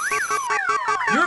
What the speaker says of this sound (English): Does everyone ignore your car alarm?